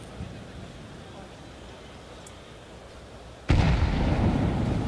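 Incendiary and HE grenades going off across a Counter-Strike map, a low rumbling burn followed by a sudden loud explosive burst near the end that stays roaring.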